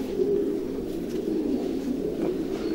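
Pigeons in a stud loft coo continuously, a low, soft, overlapping murmur from several birds close by, with no talk.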